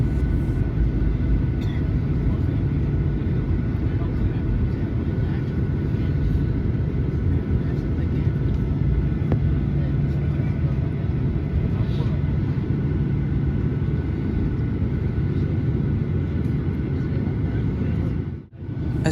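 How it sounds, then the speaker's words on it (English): Steady loud engine roar with broad low rumble, continuous throughout, heard from inside the cabin of a Rex airliner taking off from Melbourne Tullamarine Airport, ending with a brief dip. "Today we are taking off on runway 27 at Melbourne Tullamarine Airport"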